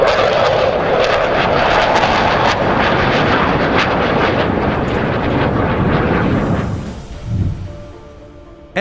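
An Israeli Air Force fighter jet roars past loud and steady for several seconds, then fades quickly into the distance, with no voices.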